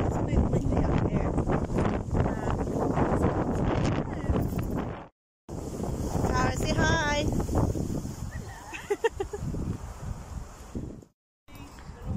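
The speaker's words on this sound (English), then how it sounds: "Okay, so it's a bit windy out here." Wind buffets an outdoor microphone in loud, broadband gusts, with a person talking over it and two brief drop-outs.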